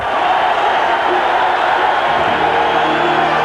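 A partisan home crowd at a boxing match roars in a dense, steady wash of cheering and yelling, loud and continuous throughout with no breaks.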